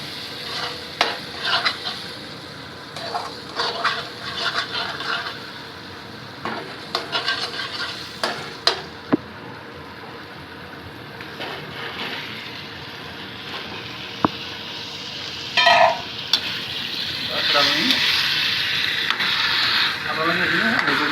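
Home-cooked chicken and potatoes sizzle steadily in a hot pan while a utensil scrapes and stirs them in repeated bursts, close and moderately loud, with no one talking.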